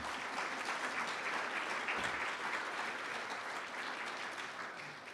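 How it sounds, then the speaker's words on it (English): Audience applause at a university journalism award ceremony, a steady dense wash of clapping hands that runs the whole time and fades a little toward the end, with no voices over it. "Let's give them another round of applause."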